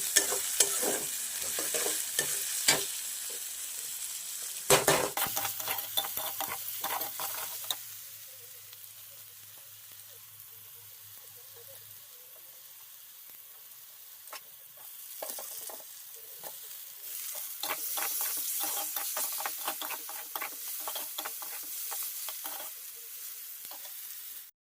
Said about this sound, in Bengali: তেল দিয়ে আদা, রসুন, পেঁয়াজ কুচি দিয়ে দিয়েছি।